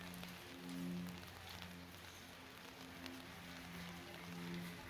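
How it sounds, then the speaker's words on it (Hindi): Heavy rain falls steadily outdoors near the Mamleshwar Jyotirlinga temple ghats in Omkareshwar, a dense constant wash of drops close by with low hum beneath, no voices. "बारिश तेज़ हो रही है"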